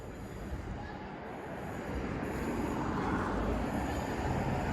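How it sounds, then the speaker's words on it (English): Northern passenger train departing a station on the line to Stoke-on-Trent, a low rumbling roar that builds gradually and stays fairly distant, with no talking. "Oh, it's departing now. That is a northern service to Stoke-on-Trent"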